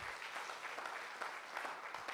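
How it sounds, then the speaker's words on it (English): A church congregation claps hands together, a dense, even applause of many people sustained throughout, moderately loud and without speech. "let's give the Lord a great big hand clap on that, because we're going to move into some things here"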